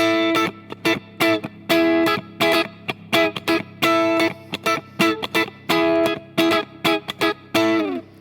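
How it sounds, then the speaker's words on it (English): An electric guitar through a Plate Reverb T150 effect plays a rhythmic pattern of short chopped chords with a spacious reverb tail lingering between strums, loud and up close. "So I found this Plate Reverb T150 that I thought was pretty nice."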